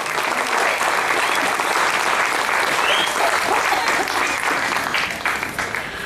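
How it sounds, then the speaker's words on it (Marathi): Sustained audience applause at a lecture-series event in Girgaon, dense and steady clapping from a large crowd filling the room for about six seconds before easing slightly at the end. "जरा जोरात टाळ्या होऊन जाऊ देत"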